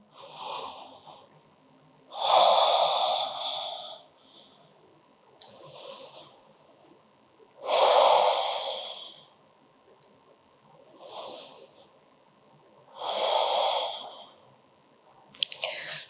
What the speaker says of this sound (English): 3 deep breaths right here.